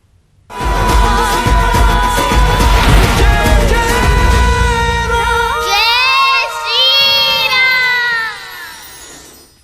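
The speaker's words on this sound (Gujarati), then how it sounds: "અયોધ્યા મંદિરમાં રામ ભક્તોનું ઘોડાપુર ઉમટ્યું છે" A dense crowd of devotees at the Ram Mandir in Ayodhya shouts and cheers loudly and continuously for about nine seconds. Raised voices and chant-like tones swell together before the noise tapers off at the end.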